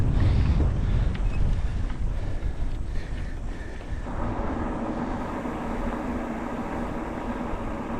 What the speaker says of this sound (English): A little bit of a climb first, and our customary afternoon headwind.